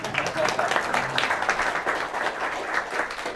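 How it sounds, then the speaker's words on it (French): A crowd at a business talk applauds with dense, continuous clapping, while voices call out and talk over it. "Applaudissements pour ma femme, s'il vous plaît."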